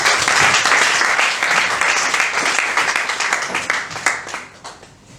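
A church congregation applauds together in sustained, dense clapping that holds steady for several seconds, then thins and fades out at the end.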